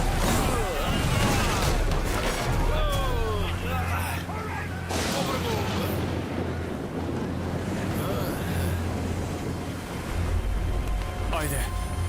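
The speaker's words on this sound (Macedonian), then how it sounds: "Бранови." Storm-tossed sea waves during a shipwreck storm, a loud continuous roar of surf and wind that fills the scene, with voices and other sounds layered over it.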